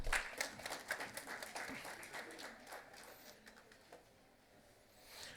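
Faint round of audience applause at a national convention for insolvency professionals and registered valuers, dense clapping that gradually thins and fades before a slight swell at the end.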